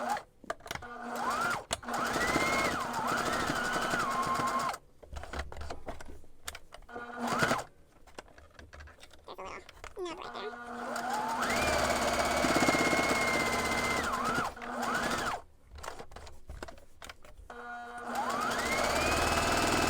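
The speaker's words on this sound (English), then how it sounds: "we're gonna sew a top stitch" A sewing machine top-stitches around the edges of dark fabric family cloth, running in bursts of rapid mechanical whirring separated by short pauses, loud and close with a faint motor whine.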